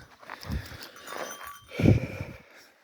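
Two pregnant mares move about at pasture outdoors, giving a few soft, faint hoof thuds and snorting breaths spaced out over a light breeze.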